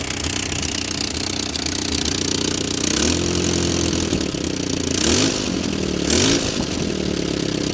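A Willys Jeep engine runs steadily on a leaking fuel pump, a loud continuous idle with rough harmonic drone and a few brief swells of revving, no voices.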